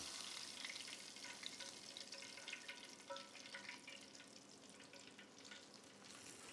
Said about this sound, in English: Let's fry up our last pieces.